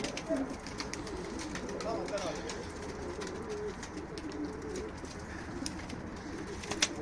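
Pigeons coo softly in low, rounded calls over a steady outdoor background at a live pigeon auction, with occasional faint bird chirps and a brief flutter near the end.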